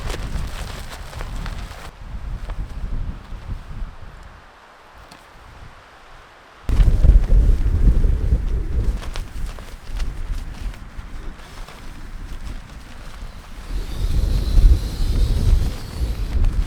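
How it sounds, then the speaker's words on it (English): Strong, relentless wind buffets a microphone at a campsite in New Zealand, a loud broadband roar that eases into a quieter lull, then surges back harder and keeps gusting steadily to the end. "that wind is hectic, eh? It's relentless."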